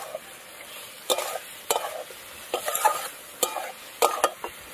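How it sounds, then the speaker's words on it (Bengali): Potatoes with ground coriander, turmeric and spices being stir-fried in a pan, a soft frying hiss broken by repeated sharp scrapes and knocks of a spatula against the metal. "সব কিছু দিয়ে এবার আলু দিয়ে মশলা সব কষিয়ে নেব।"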